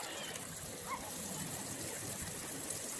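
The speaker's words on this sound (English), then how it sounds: "Throw some water up on there." Water splashing and gushing steadily onto a 2007 Mazdaspeed3 during peeling of old Plasti Dip, a continuous close wash of spray without a break.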